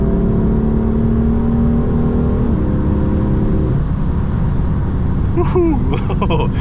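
A BMW M4 with a 431 hp 3.0 turbo engine and DCT gearbox drives through hills with a steady, loud engine hum and shifting tones. Brief clattering noises and a rising whine come near the end.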